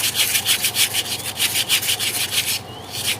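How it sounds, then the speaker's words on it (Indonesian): Fine sandpaper rubs back and forth over a salvaged Cosmos dynamo part in steady, rapid strokes, a close, raspy scratching with a brief pause near the end and no talk. "Yang bagian belakang juga kita amplas halus."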